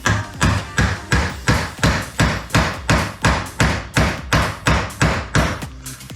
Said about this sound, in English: you just need to give it a very gentle few taps just to get started with the hammer